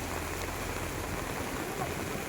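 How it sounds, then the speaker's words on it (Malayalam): Heavy rain pours outside a boat in Kerala, a dense, steady hiss of drops drumming on surfaces close by, loud and unbroken throughout. "വല്ലാത്ത മഴ ഗൈസ്"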